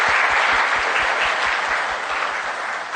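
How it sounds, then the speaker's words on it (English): An audience claps for quiz contestants at a trivia event, a dense and steady round of applause heard near and loud, fading slightly toward the end. "Please give them a round of applause."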